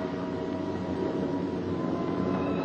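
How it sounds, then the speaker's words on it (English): Piston engines of B-17 Flying Fortress bombers returning to land hold a steady, loud, continuous drone with a low rumble and no break over the short stretch, with no voices. "These planes have priority to land first."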